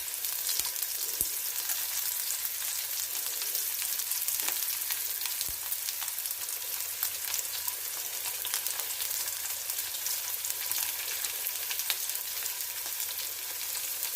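Ingredients for a crab curry fry in a pan with a dense, even, hissing sizzle that carries on throughout, broken only by a few faint clicks. No one talks.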